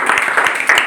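Students in a basic maths class clap together in a short, dense burst to praise a young girl who answered correctly. The clapping is close and fairly loud, with no talking over it.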